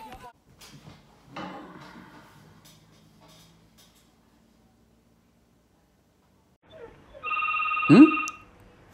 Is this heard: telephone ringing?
yes